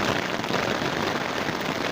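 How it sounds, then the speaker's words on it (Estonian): Heavy rain drums steadily on a tent during a cycling trip, a dense, continuous hiss and patter filling the space at a constant loudness with no pauses. "Ma olen praegu telgis ja sajab täiega."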